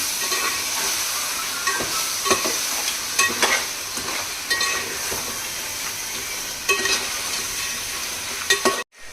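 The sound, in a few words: tomato puree added to frying crab curry and mixed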